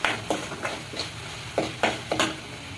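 Spoon scraping and stirring through spices and tomatoes cooked down in oil for pav bhaji, several quick scrapes with a soft sizzle underneath, close and clear with no talk.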